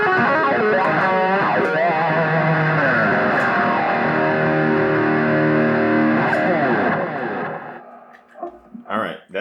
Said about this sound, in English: And the nice thing about this is when you turn on the wah pedal.